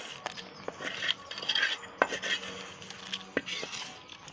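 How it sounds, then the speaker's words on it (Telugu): Fried green chillies are pounded and ground in a stone mortar for chutney. Irregular knocks and gritty scraping come at low volume, close by, with no talking. "ఫ్రై చేసుకున్న పచ్చి మిర్చిని రోట్లో వేసుకొని నూరుకుందాం"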